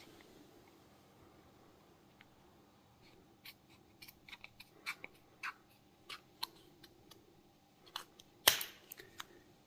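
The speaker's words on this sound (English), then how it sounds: "Use a sturdy pair of scissors to cut it out." Sturdy scissors snip through material while cutting out a homemade control horn for a model aircraft, a sparse series of quiet, sharp cuts that grow closer together, ending in one louder snip.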